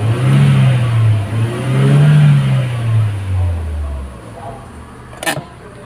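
A car engine in a repair workshop fires up and revs loudly close by, the deep drone sliding lower as it settles toward idle, followed by a short sharp knock near the end.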